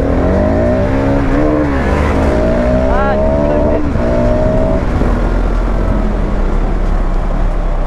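Two Husqvarna 701 supermoto motorcycles from 2022 accelerating hard from a rolling start, loud close engine roar rising in pitch through gear changes, then settling into a rough steady drone.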